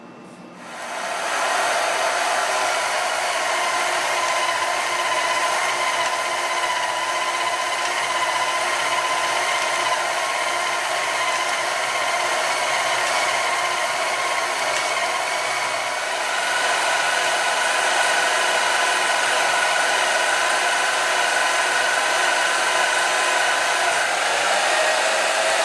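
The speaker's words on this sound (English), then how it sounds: "So I'll cut most of that out on the bandsaw" A bandsaw cuts through a metal block for a Craftsman/Atlas lathe indicator holder, giving a steady, loud, continuous whirring hiss with a high ringing tone that holds throughout and brightens slightly toward the end.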